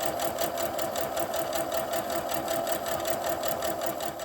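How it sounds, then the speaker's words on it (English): A sewing machine stitches steadily with its thread tension raised, giving a fast, even mechanical chatter at close range that runs the whole time with no talking. "I'm going to raise my tension and try sewing again."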